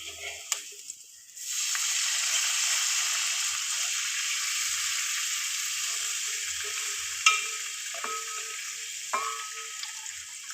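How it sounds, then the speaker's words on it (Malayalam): Water poured into a hot pan while cooking semiya upma, giving a loud, steady sizzling hiss that starts abruptly after a quieter opening, with a few faint clinks of utensils toward the end. "വെള്ളം ഒഴിക്കുക."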